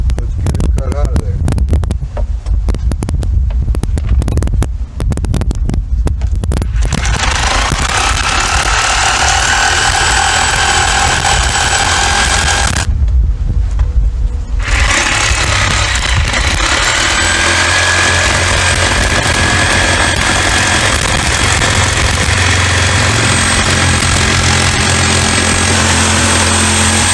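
A power tool cuts through wall paneling nailed to studs, three layers thick, to open a window hole. It runs as a loud, sustained whine with stuttering bursts early on and a brief pause midway.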